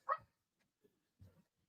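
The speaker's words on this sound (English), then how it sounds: "so we got barking out there." Dogs barking outside at a distance, one sharp bark followed by a faint yip and a lower muffled bark, separated by quiet gaps.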